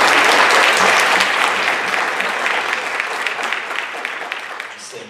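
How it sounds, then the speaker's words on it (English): An audience at a Bernards Township school board meeting applauds a teacher with dense, loud clapping that starts strong and slowly thins out over several seconds. "A little round of applause for you"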